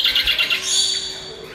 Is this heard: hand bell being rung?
no